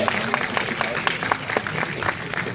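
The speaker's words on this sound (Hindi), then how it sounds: "जोरदार तालियों के साथ आपसे स्वागत करिए" A crowd at a Samajwadi Party lecture claps steadily throughout, welcoming a doctor, dense applause that stays fairly loud and even over its short length.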